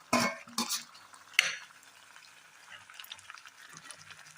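Mushrooms go into a thickened gravy in an iron kadai, with a few quick clanks of a spoon against the pan followed by a soft, quiet simmering bubble.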